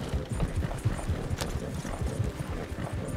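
Horses climb a hill in the video game Red Dead Redemption 2, hooves clip-clopping in a steady, close, uneven rhythm throughout with no talk.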